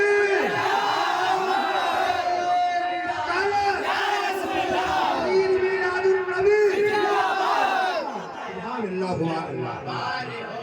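A large crowd at an Eid Milad-un-Nabi gathering in Banaras roars a chant back in response to a Nara-e-Takbeer call, many voices shouting together loudly and continuously, with a voice carrying over the crowd.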